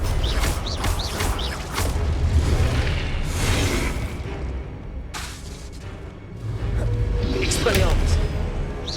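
Confringo fire spells burst repeatedly in Hogwarts Legacy, booming explosions and whooshing blasts stacked across a noisy battle, with a voice calling out over the din.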